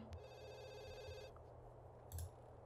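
Telephone in The Sims 2 ringing faintly, a steady electronic trill lasting just over a second, followed by a quieter stretch of background game sounds.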